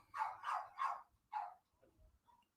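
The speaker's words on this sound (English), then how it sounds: "They are barking at whoever just came through the door." Several dogs bark in a quick burst of three loud barks, then one more after a short pause, followed by faint whimpers and scattered low noises, off in the background of a room as someone comes through the door.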